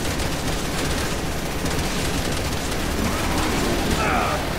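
Sustained gunfire in the video game Resident Evil 6, a dense, continuous roar of rapid shots and mechanical clatter running the whole time at steady loudness.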